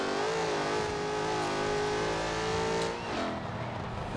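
A supercharged Ford Racing Puma in Forza Horizon 4, either a 3-liter V6 or a 5-liter V8, holds a high, sustained engine note that rises, then dips briefly near the end.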